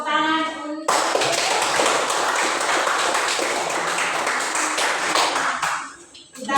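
A classroom audience bursts into sustained group applause of many hands clapping close by, steady and dense for several seconds before tapering off, with a voice briefly heard at the start.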